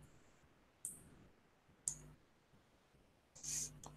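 A few sharp, faint computer mouse clicks, spaced about a second apart, sound in a quiet room while software is operated.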